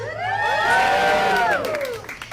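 A comedy club audience cheers and whoops loudly for a stand-up comedian, a swelling burst of crowd voices that fades toward the end.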